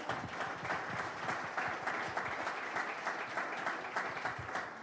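A congregation applauds steadily at a wedding blessing, with dense clapping from many hands filling the room throughout and a faint voice underneath.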